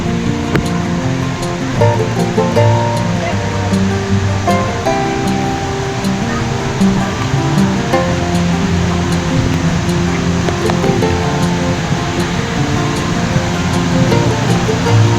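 Fast-flowing river water in a monsoon-swollen stream near Bhimashankar rushes steadily and loudly throughout, a continuous roar with no pauses and no voices.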